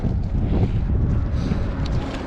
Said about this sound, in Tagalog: Mahangin pero hindi siya malamig.